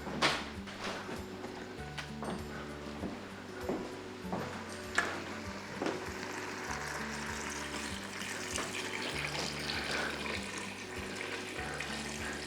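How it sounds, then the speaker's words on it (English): Water added to a soup pot, a faint running, pouring stream from a tap with small splashes, quiet and steady under low background music. "Let's go ahead and add some water to that."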